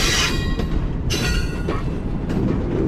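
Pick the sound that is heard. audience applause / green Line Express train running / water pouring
green Line Express train running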